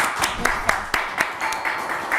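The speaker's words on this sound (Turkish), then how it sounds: "Bize bir moral alkışı verir misiniz?" A studio audience on a Turkish word-game show gives a short round of applause, with separate sharp claps landing in an uneven rhythm over a thin room background.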